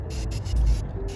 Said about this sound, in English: So I'm just gonna hit him with some white spray paint.